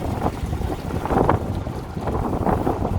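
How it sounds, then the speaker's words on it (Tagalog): Heavy gusts of strong wind buffet the microphone on a ferry in rumbling, uneven bursts that swell and ease, with no speech. "Lakas ng hangin guys."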